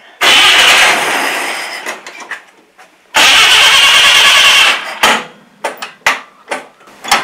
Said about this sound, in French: Alors voilà, on met le contact, un petit coup de starter, on pompe un peu parce qu'il faut faire venir l'essence.